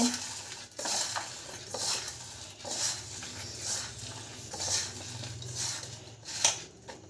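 Chopped onion mixed by hand with salt in a bowl for an omelette, soft rhythmic rubbing and light clinks repeating about once a second, close and quiet, no talking.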